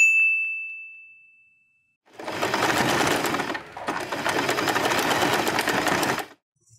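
A bright ding fades out, then a sewing machine stitches a fabric bow in two rapid, buzzing runs separated by a brief pause, close and loud.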